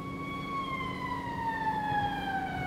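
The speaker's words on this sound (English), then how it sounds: "Oh, a police car." A police car siren wails in a steady, sweeping tone that slowly drops in pitch, moderately loud and heard alone over faint traffic rumble.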